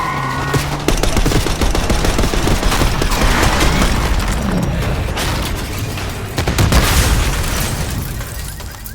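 Relentless video-game gunfire from Call of Duty Black Ops 6: dense automatic bursts and booming blasts fill the whole stretch at high volume, with a street firefight rolling on without pause.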